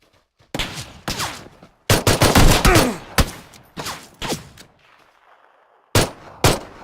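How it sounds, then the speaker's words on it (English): Automatic rifles fire in the Battlegrounds video game in loud, sharp bursts and single cracks, clustered in rapid volleys with short pauses. A final pair of shots comes after a quieter gap. "they were shooting at me with automatic rifles there"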